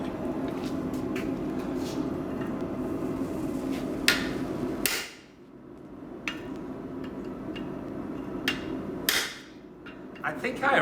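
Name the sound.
hammer striking a chisel during a chiseling demonstration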